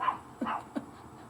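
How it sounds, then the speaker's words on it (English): A protective dog outdoors gives three short, faint whimpering yips spaced across about a second, each brief and somewhat distant, with quiet room tone between them. "Oh, and my ever protective dog is outside."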